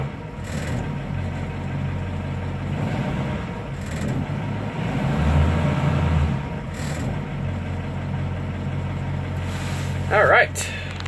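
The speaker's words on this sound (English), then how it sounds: "listen to that diesel" A Cat 3208 diesel in a 1987 fire engine runs at a steady idle around 1,000 RPM, a low rumbling drone that swells slightly midway, with a brief sharper burst of noise near the end.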